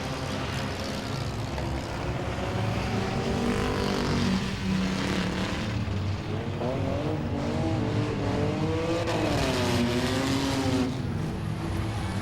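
Race cars in an enduro event roar down the front straightaway at Langley Speedway, with loud, continuous engine drone and rising and falling pitch as several cars run three and four wide past the listener.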